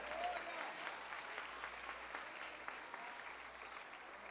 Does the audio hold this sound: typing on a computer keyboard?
no